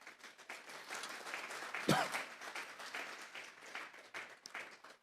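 A church congregation applauds during a sermon, a broad wash of many hands clapping at moderate loudness, with a brief voice rising through it midway.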